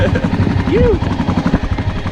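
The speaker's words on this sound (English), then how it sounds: "Just lost the drone in the hedge." A small drone whines with propeller buzz while snagged in a hedge, loud and close, its pitch briefly rising and falling, with voices and breathing mixed in.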